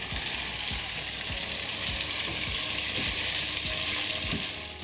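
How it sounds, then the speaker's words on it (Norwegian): Cabbage frying in a hot pan, a dense steady sizzle with rhythmic stirring scrapes at a regular beat, close and loud, no talking. "Og så tar jeg og steker litt kål."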